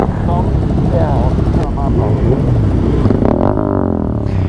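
A 2021 Yamaha MT-09 900cc motorcycle engine drones loudly up close, its pitch rising and falling as it revs, mixed with wind rush and voices.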